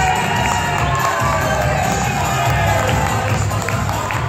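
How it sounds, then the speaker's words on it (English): A large live audience at a dance show cheers, shouts and applauds continuously, a dense, loud wall of crowd noise with high-pitched screams mixed in throughout. "please put your hands together and make some noise for the team"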